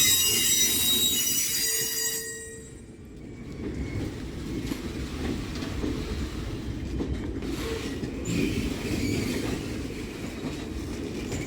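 Norfolk Southern freight train with a locomotive on the end rolls past close by, wheels squealing and screeching over a continuous rumbling clatter of railcars that carries on loudly to the end.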